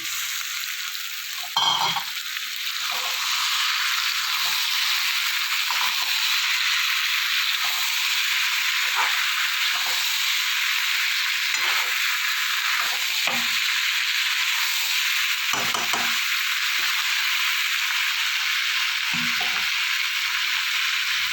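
Steady, loud sizzling of potatoes and ivy gourd frying in a pan, continuous throughout with occasional soft scraping from stirring; no voices.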